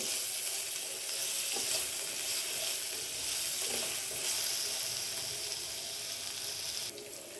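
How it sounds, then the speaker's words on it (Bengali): Potato pieces for honey chilli potato fry in oil in a pan, giving a steady, continuous sizzle with occasional stirring scrapes, close and fairly loud throughout. "আলুগুলো একটু ভাজা ভাজা হবে"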